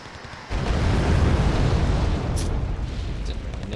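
Bombs explode in the war strategy game Wargame: Red Dragon, a sudden heavy rumbling blast that swells and rolls on loud and deep for several seconds with no talk.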